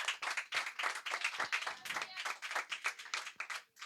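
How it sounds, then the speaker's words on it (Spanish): Congregation in a church clapping in a rhythmic, pulsing pattern, distinct repeated claps from many hands, fairly close and moderately loud, with some voices underneath. "Dale un aplauso al Señor, aleluya."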